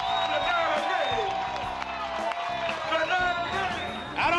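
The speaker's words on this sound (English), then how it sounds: "Give him a great round of applause" A comedy club audience claps and cheers for comedian Reynaldo Rey, a loud dense burst of applause with whoops and shouts that surges again near the end, while a voice talks over it.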